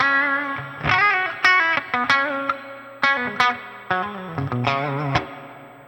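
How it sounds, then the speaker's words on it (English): Electric guitar picking and chords through a B-52 ATX100 tube amp, drenched in heavy, splashy spring reverb set three-quarters up, each note ringing into a long, wobbly tail. "It's a nice reverb. It's very springy"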